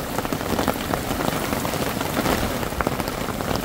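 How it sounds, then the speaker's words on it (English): Heavy, steady rain pours down hard outdoors, a loud dense hiss of drops drumming on surfaces throughout with no voices. "This is the first time it's rained this hard, this long."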